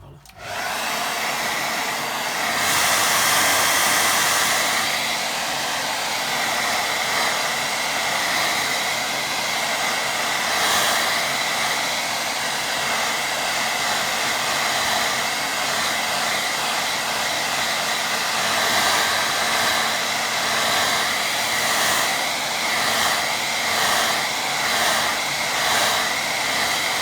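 A hair dryer blows steadily and close while drying a watercolour painting, a continuous loud whooshing hum that starts abruptly and wavers slightly as it is moved about.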